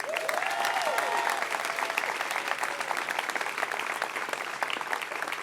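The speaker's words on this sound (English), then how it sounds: "I hope you can give them a round of applause." An audience at a California governor's budget event breaks into sustained applause, a dense, even clatter of many hands that holds steady throughout, with a brief faint voice near the start.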